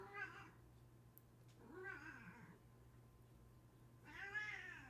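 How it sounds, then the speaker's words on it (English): A cat meows three times, drawn-out and whiny, spaced a couple of seconds apart, fairly faint in a quiet room. "I'm sorry if you can hear my kitty."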